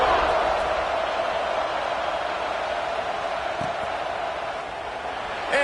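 A football stadium crowd before kickoff makes a broad, steady roar of cheering that stays loud and unbroken and swells again at the very end.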